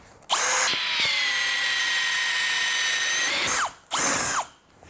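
Close and loud, a Bosch GSB 185-LI cordless drill with a 20 mm spade bit bores into mahogany in one steady whirring run of about three seconds, then spins down and gives a brief final burst.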